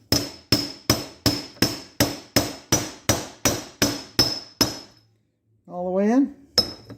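Sharp metallic hammer blows drive a compressor chassis bearing inner race home through a big socket, about a dozen evenly spaced ringing strikes, then a pause, a brief scraping clatter and one more strike, close and loud.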